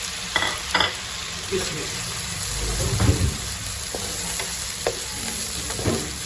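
Onions sauté in ghee for kachnar gosht, a soft steady sizzle with occasional spoon knocks and scrapes against the pot, close by, and a voice speaks briefly near the start.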